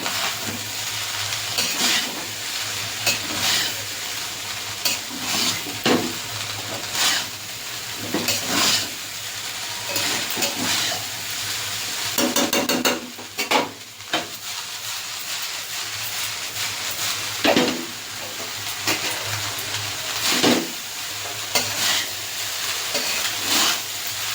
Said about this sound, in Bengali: ভাতটাকে ভালো করে ফ্রাই করে নেবো।